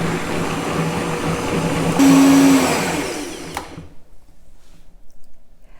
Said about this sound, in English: I've turned my blender up a little bit,